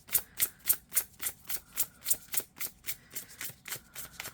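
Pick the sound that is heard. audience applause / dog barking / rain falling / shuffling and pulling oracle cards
shuffling and pulling oracle cards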